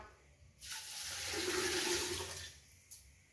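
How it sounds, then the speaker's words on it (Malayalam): Water gushes in a single strong pour that builds, holds for about two seconds, then tapers off, with a brief splash afterward. "അതിന് ശേഷം വെള്ളം ഒഴിച്ച് കൊടുക്കാം"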